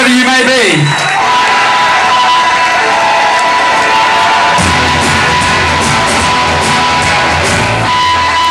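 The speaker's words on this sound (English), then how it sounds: "applause for bass players wherever you may be" A crowd at a 1986 rock concert in Indianapolis cheers, whoops and applauds loudly and continuously, with music tones ringing through the dense, roaring crowd noise.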